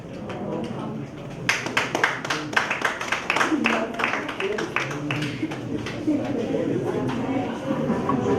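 An audience at an awards ceremony breaks into applause after a stage performance, clapping building in quickly and continuing steadily, with a host talking over it.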